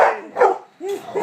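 A pit bull gives a few sharp, close barks in quick succession, loud and abrupt.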